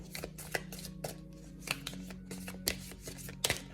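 Tarot cards being drawn from a deck, a series of quick soft slides and flicks of card stock at irregular intervals, close and quiet.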